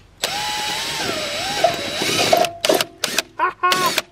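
A power drill spins in reverse, backing a stuck part out during a Kubota repair. A steady, wavering motor whine runs close and loud for about two seconds, then short bursts of excited voice follow.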